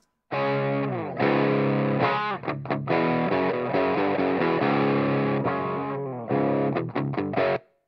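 Electric guitar played through the clean channel of Waves PRS Supermodel virtual amp software, strummed chords and short riffs with a slightly gritty edge, loud and close, no talking.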